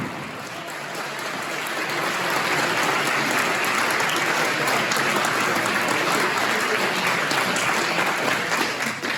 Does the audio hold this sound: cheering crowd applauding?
yes